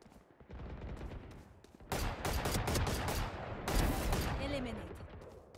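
Gunfire in the game Valorant during a team deathmatch: dense bursts of shots, loudest from about two seconds on, with a heavier burst near the end, all blended with game noise.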